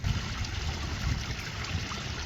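Water trickles steadily down a garden pond waterfall in icy winter weather, with icicles forming along the falls; a continuous, even rush and splash close by, with no voices.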